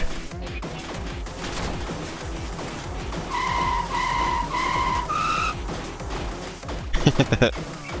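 Truck skidding in the video game FlutterBug: a steady engine-like rumble with tonal squeal bursts midway, ending in a short rattling crash, alone without talk.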